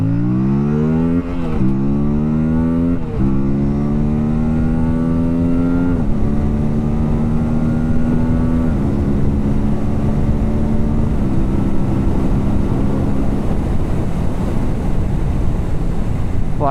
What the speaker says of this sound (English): Quite fast motorcycle.